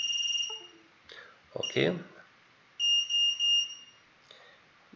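Drone flight controller beeper on an Eachine QX95S sounding after save and reboot: a few short, clear electronic beeps, then three louder sustained tones, with brief speech early on.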